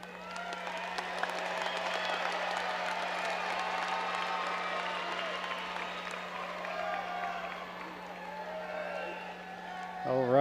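Graduating students at a 2022 Cedar Park graduation ceremony give their families a round of applause, a broad steady clapping from a large crowd across the whole stretch, with a low hum underneath and a short rise at the end.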